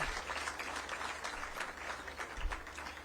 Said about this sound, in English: A bigger round of applause, please.